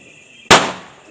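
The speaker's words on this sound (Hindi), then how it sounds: "एक और पटाखा फोड़ रही हूँ मैं, इसे कहते हैं मुर्गा छाप पटाखा" A Murga chhap firecracker exploding during Diwali celebrations, one sharp loud bang close by that decays over a short ringing tail.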